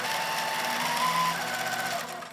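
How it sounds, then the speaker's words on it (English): A sewing machine stitches paired fabric scrap pieces in a steady, fast rhythmic whir close up, running continuously before easing off at the end. "I'm just going to start sewing."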